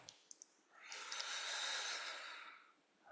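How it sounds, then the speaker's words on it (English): A slow, steady in-breath during a guided meditation, soft and close, swelling gently over a couple of seconds and then fading, alone in a quiet room. "Breathing into that."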